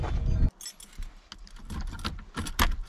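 Car keys for a Ford Ranger jangle in a hand, a heavy rustle at first, then scattered light metallic clinks and rattles close by.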